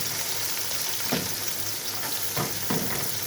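Onions sizzling steadily in hot oil in a pan while lunch is cooked at home, with a few louder bursts as they are stirred, close and continuous with no talk.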